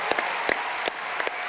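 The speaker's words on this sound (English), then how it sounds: "you should give him a rousing round of applause" Keynote audience applause at a business conference, a steady wash of clapping with a handful of sharper, nearer claps scattered across its brief span.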